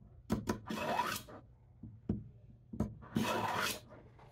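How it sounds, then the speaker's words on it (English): A dull kitchen knife gets pulled through a 5-in-1 knife sharpener in a few separate rasping strokes, each a short gritty scrape, close and fairly quiet, with small taps between them. "I'm gonna pull this per the instructions about five times"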